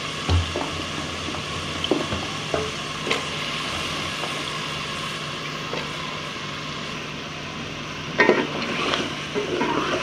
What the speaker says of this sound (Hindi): आलू हमने डाल के इसको थोड़ा सा हमने भूनना है